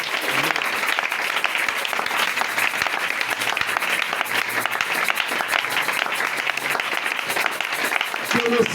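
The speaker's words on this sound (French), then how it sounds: "Acclame très fort pour Jésus-Christ." A church congregation applauds and cheers loudly for Jesus Christ, sustained dense clapping mixed with shouts and voices throughout.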